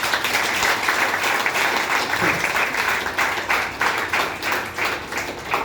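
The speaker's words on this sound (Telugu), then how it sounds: "సార్ ఒకసారి గట్టి క్లాప్స్ చేయండి ఒకసారి." An audience in a college motivational class claps hard and steadily, a dense wash of applause running unbroken from start to finish.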